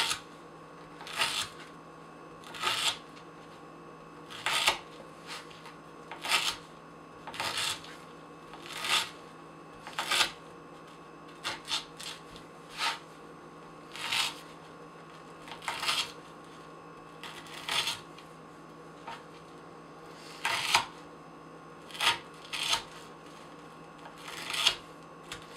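A Spyderco Paramilitary 2 folding knife with an S30V steel blade slices through rope during an edge retention test, producing a long series of crisp, evenly repeated cutting snaps, close and clear over a quiet background hum.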